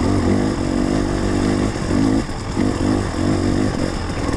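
An off-road motorcycle engine in a quarry runs loud and close, its tone rising and falling in repeated revs as it rides in third gear.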